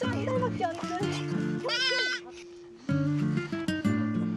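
Goats bleating on a Mongolian nomad farm with a herd of about seventy, calls rising over steady music-like harmonic drone and background sound, several overlapping bleats through the clip.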